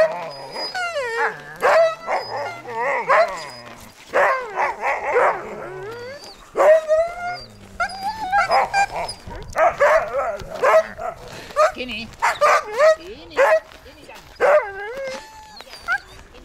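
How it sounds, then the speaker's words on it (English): Siberian huskies at a racing kennel in central Finland: an excited chorus of yips, barks, whines and rising howls, loud and near, coming in overlapping bursts for the whole stretch. "What you find with Siberian Huskies and all Huskies, they tend to howl rather than bark."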